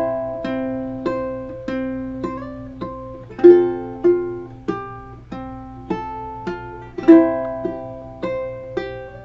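Slow fingerstyle ukulele picking through the first bar of the hymn Be Thou My Vision, single plucked notes ringing out one after another in an even rhythm, played alone with a few slightly stronger accents.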